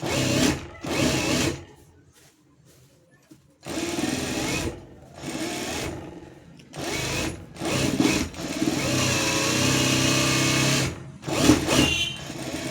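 Sewing machine running in several bursts while stitching thread piping onto a blouse, a steady close mechanical whir that starts and stops, with brief pauses between runs and no talk.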